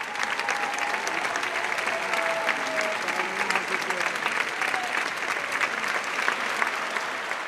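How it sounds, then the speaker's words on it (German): A concert audience at the traditional Hofkirchen concerts in Innsbruck applauds the Wilten Boys' Choir, with loud, continuous clapping that holds steady from start to finish, close and full, and no speech over it. "Die ganzen Leute, die klatschen für uns."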